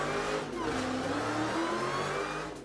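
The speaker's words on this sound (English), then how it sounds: "we can rip a sick burnout" A high-horsepower race car in the iRacing sim game does a burnout, its engine revving hard and steady under a continuous roar of spinning rear tires, loud and close throughout with no talking.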